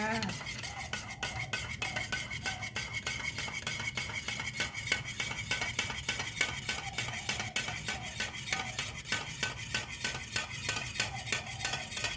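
A spoon stirring sweetened condensed milk and coffee in a glass for Thai-style iced coffee, a rapid, steady clinking and scraping of metal against glass, close and continuous with no talk.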